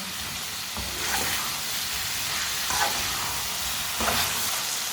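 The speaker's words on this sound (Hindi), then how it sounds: "टिंडे को 2 मिनट के लिए मैंने पका लिया है, भून लिया इसे अच्छी तरह मैंने।" A steady sizzle rises from tinda (apple gourd) frying in spice masala over a medium flame, with a few soft stirring scrapes spaced through the hiss and no voices.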